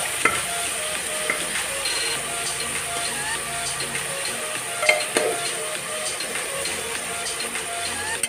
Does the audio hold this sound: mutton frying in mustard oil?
yes